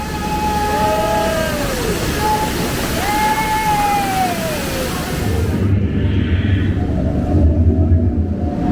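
Steady roaring rush of a waterfall on the Jungle Cruise ride at Walt Disney World, loud and continuous throughout, with a rumbling boat motor and brief tonal whistles layered over the torrent.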